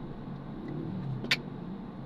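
Road traffic on a street in Barangay 201, Pasay City: a steady low rumble of cars and engines, fairly faint and continuous, with a brief higher hiss near the end.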